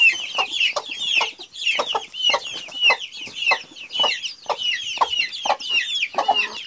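A hen clucks in rapid, repeated bursts with overlapping chicken calls, loud and close, running steadily throughout with no talk.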